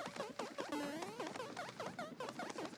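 Cute chattering cartoon ape sound effects from Donkey Kong, heard in the Paper Mario: The Origami King video game, with bouncy pitched vocal chirps and sliding tones packed densely over a busy musical backdrop throughout.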